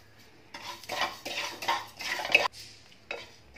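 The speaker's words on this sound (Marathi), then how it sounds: "धणे भाजून घेते।" Coriander seeds dry-roasting in a pan while being stirred, heard close up as bursts of rattling and scraping from the spoon and a faint sizzle, separated by short pauses.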